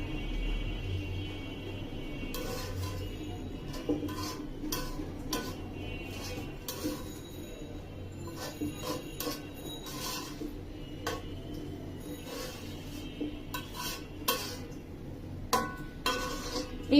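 Rice gets stirred in a cooking pot, with scattered light clinks and scrapes of a utensil against the metal over a low, quiet background.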